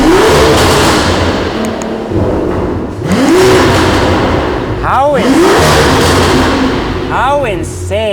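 A 2023 Aston Martin V12 Vantage with a custom exhaust revs loud and close, each throttle blip sweeping up and falling away in repeated surges, with sharp crackles at the top of the revs.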